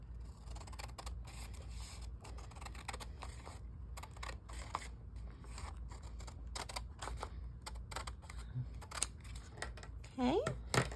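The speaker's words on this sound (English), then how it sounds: "We're going to cut this flap off." Scissors cut the flap off a junk mail envelope in a string of quick, crisp snips and paper rustles, close and faint, with a voice talking briefly among them.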